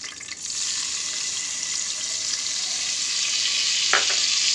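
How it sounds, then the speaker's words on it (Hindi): Cumin, carom seeds and asafoetida sizzle steadily in hot oil for tamarind chutney, a continuous close frying hiss that grows slightly louder, with a brief clink of stirring near the end. "जीरा और अजवाइन को पहले इसमें डाल दूँगी ये हींग है ये मैं हींग भी इसमें डाल दूँगी"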